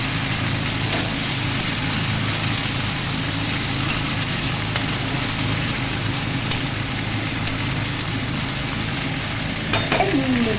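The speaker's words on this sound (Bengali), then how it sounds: "ঢাকনা খুলে কয়েকবার নেড়ে দেওয়া হচ্ছে" Aloo posto, potatoes in poppy seed paste, is stirred in a pan, with a steady sizzle and scattered scrapes and clinks running throughout and a louder scrape near the end.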